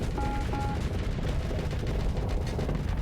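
Weapons blaze on auto fire during a space battle in the video game Starsector, a dense, continuous roar of rapid shots and blasts that stays loud and unbroken throughout.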